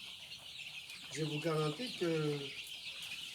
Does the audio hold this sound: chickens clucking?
yes